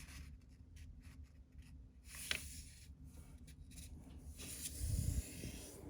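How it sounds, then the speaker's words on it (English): A sheet of paper is folded into a paper airplane, soft creasing and rubbing sounds with a few crisp scrapes, very quiet and close, with no talk. "All we do is take the paper and we're gonna fold it"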